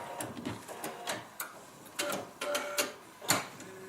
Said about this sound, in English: That little clicking noise you hear is the needle going through the paper.